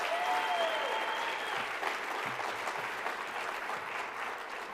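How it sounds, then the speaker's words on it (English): Steady, full audience applause fills the room at a Colorado youth citizenship awards ceremony, honouring an award recipient. It holds evenly throughout with no speech over it. "May I please get another round of applause for Jenna Massey?"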